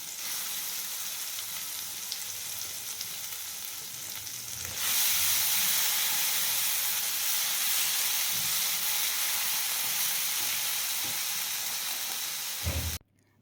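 Ground coriander leaf paste sizzles in hot mustard oil in a kadai, a steady close hiss that swells louder partway through and then cuts off abruptly.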